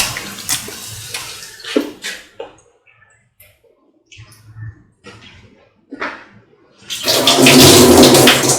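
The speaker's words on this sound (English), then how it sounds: "Now put in the soaked and washed rice" Soaked, washed rice pours into water in a cooking pot, making a loud rushing splash near the end that follows a stretch of talking and quiet kitchen sounds.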